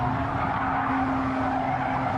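Porsche engine sound from Gran Turismo 7, a steady, loud roar with a strong sustained tone held at high revs, accompanied by a tire-scrub hiss throughout.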